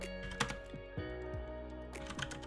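Typing on a computer keyboard while writing Python Pygame code, a close, soft run of irregular key clicks with small bursts of faster taps.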